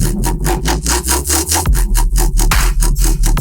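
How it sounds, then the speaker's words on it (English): Loud overdrive distortion drives a fake-out build-up just before the drop of an electronic track, with fast, evenly pulsing gritty bursts throughout and no voice. "now listen, this is just the overdrive doing the fake out"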